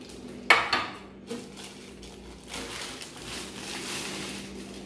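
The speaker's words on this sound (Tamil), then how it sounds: "இது ஒரு குட்டி பாத்திரம்." Small cooking pot with a sturdy handle, heavy base and lid being handled in a home kitchen: a couple of sharp metallic clinks and knocks near the start, then softer rattling and shuffling of cookware, close and moderate in level.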